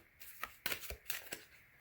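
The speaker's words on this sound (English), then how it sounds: "Give them a good shuffle." Tarot cards are shuffled by hand in several quick riffling bursts, close and crisp, with short pauses between the flurries and no talking.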